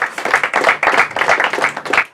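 A group claps for a correct answer at a quiz event, a brief burst of quick, uneven hand claps at close range.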